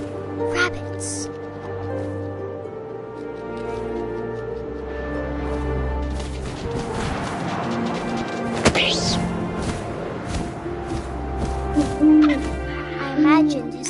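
In the video game What Remains of Edith Finch, an owl hoots amid wind and rustling game ambience, with crunching and snapping sounds layered over a narrating voice throughout.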